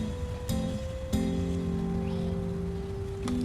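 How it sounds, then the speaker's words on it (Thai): Rain falling outdoors as a steady, even hiss throughout, with a faint tonal hum and a few light clicks on top, and no one talking. "ฝนตกมาอีกแล้ว"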